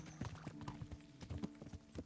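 Rhythmic clip-clop of a prancing horse's hooves in the game Kingdom Come: Deliverance, quick, even footfalls at close range with no talking over them.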